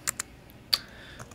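A few isolated clicks of computer keys being typed, close and quiet, spaced irregularly across a brief moment.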